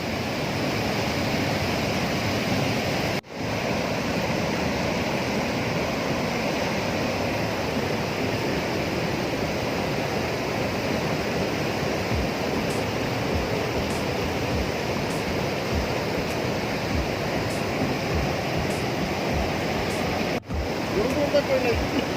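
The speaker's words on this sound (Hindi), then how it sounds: "चट्टानों को चीरती हुई ये धाराएं" Steady broadband rush of Satdhara waterfall in Barsur, Chhattisgarh, pouring in streams over rocks, continuous and full, with no voices over it.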